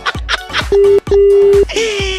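Telephone tones sound as two loud, steady electronic beeps of unequal length, followed by a short warbling tone, inside a radio comedy phone-call segment.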